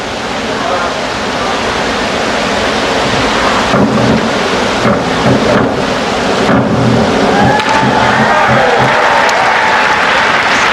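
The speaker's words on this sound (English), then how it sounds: "They're getting good applause too" Sustained applause fills a large aquatic arena after a dive in the men's synchronised 3m springboard final, dense clapping and crowd roar surging loud and continuous, with a commentator's voice running underneath.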